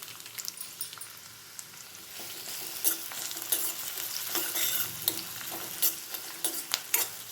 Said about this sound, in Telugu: దీంట్లోకి సరిపడా ఆయిల్ వేసుకుందాం. చెక్క లవంగాలు వేస్తున్నాను. దీంట్లోకి ఉల్లిపాయలు కట్ చేసిన ముక్కలు